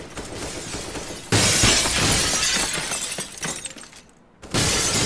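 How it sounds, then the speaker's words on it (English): Glass shatters in the game Counter-Strike: Global Offensive, a loud crashing burst of breaking panes from above that runs on for a few seconds, briefly drops out, then returns. "As you can hear, the glass is being smashed from up above."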